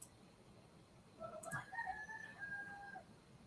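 A rooster crows once, a faint, distant cock-a-doodle-doo standing alone in a quiet room.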